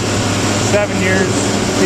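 A John Deere 4630 tractor with 12,000 to 14,000 hours and some blow-by runs at a steady, loud drone while pulling a hay grinder, with a person talking over it.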